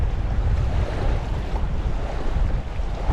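Strong wind blows beside Cultus Lake, a loud, steady low rumble buffeting the microphone throughout with no speech.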